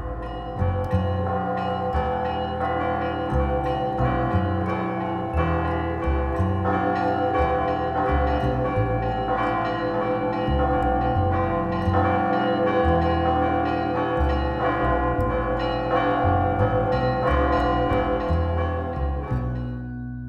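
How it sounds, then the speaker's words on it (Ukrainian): A novice nun rings church bells at a church in Kolomyia, Ukraine. The bells were bought from a monastery in eastern Ukraine. The pealing is dense and rhythmic, with strikes overlapping continuously throughout, loud and close, with no voices. "Про його життєво-активну сутність сповіщає послушниця-дзвонарка, яка вчилася цього ремесла в монастирі на сході України, де також закуплено і дзвони."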